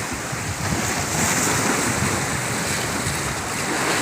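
Sea waves and strong wind at a Thai beach on a windy day at low tide: a continuous wash of surf under heavy wind rush and buffeting on the microphone, with no voices.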